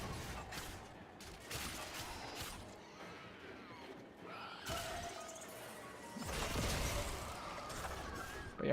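Video game combat with gunfire and explosions from a frame-quest mission, heard as dense bursts of shots and booming blasts, with loud crashes near the start, middle and end.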